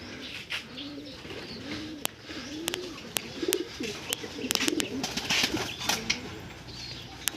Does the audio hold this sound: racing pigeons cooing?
yes